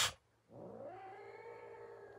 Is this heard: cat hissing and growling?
yes